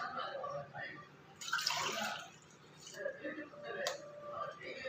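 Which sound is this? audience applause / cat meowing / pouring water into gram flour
pouring water into gram flour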